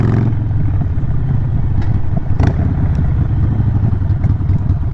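A Harley-Davidson Sportster with a loud aftermarket exhaust rumbles steadily up close, a deep continuous idle with a brief blip of throttle partway through.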